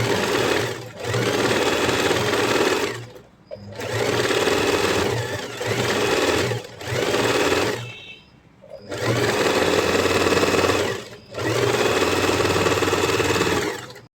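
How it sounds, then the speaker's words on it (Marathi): A sewing machine runs in long, loud bursts as it stitches the waist seam on the back piece of a blouse, humming steadily with short pauses between runs and no talking. "आता आपण कमरेवरती शिलाई मारून घेऊया"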